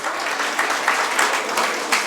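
Audience applause in a hall for a Nepali women's welfare committee event, dense and steady clapping from a crowd throughout, welcoming honored guests on stage.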